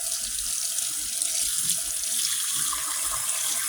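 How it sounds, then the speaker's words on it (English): Hot water running steadily from a faucet as a Cabbage Patch Kids doll's head is rinsed under it during bath time, a continuous close hiss and splash with no talking. "let's run his head under the hot water"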